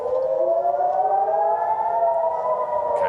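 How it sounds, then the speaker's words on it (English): A wailing air raid siren in Israel during Iranian missile strikes sounds steadily, its pitch slowly rising, heard from a distance with no other sounds. "the sirens are now increasing their intensity"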